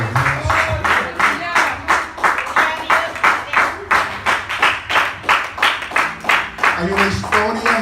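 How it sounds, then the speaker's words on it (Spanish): A church congregation breaks into loud, sustained applause, the dense clapping rising and falling in steady waves across the whole stretch, with a few voices murmuring underneath. "Alguien le puede dar un fuerte aplauso"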